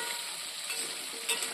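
Food frying in a pan with a pinch of salt sprinkled over it, a steady close hiss through the whole stretch with one brief louder crackle near the end.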